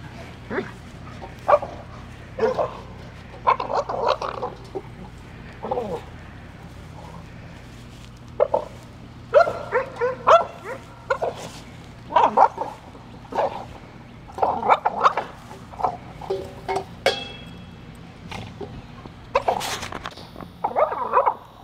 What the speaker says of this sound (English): He beats up his food bowl.